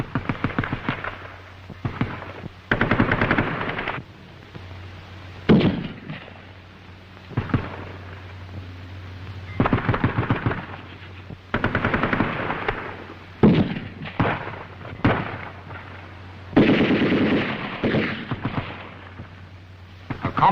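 Coordinated rifle and machine gun fire from a dismounted patrol crackles in repeated rapid bursts and single loud reports, with sustained rattling strings of shots over a steady background hum, fairly loud and without speech.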